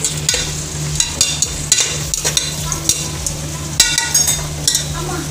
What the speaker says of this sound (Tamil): இதில் வெங்காயம், பட்டை, கிராம்பு, ஏலக்காய் எல்லாம் போட்டிருக்காங்க. ஸோ இதை வச்சு நல்லா இப்போ வதக்கணும்